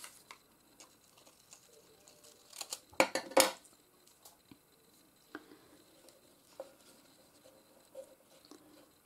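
Scissors snip through material for a homemade Christmas cracker, one sharp cluster of cuts close by in an otherwise quiet room, followed by faint scattered ticks and handling noises.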